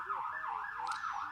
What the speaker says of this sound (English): As soon as I show that slide, there's got to be a siren come by.